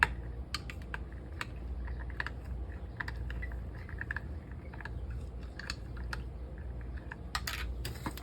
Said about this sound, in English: now stir this together